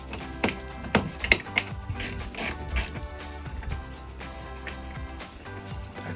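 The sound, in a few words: ratchet removing fender liner bolts on Jeep Gladiator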